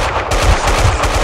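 Rapid pistol gunfire in a video game, loud and close, with a quick string of sharp shots in steady succession and no talk.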